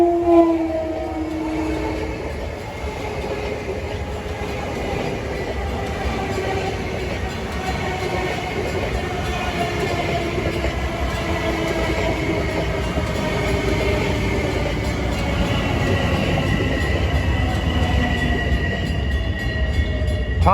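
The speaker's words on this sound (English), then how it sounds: "Here comes train 2082 en route from New York to Ronkonkoma, arriving the Farmingdale station." Diesel commuter train 2082, running from New York to Ronkonkoma, rolls into Farmingdale station on a summer evening with a steady engine drone, rail rumble and squealing wheels, sustained and fairly close throughout.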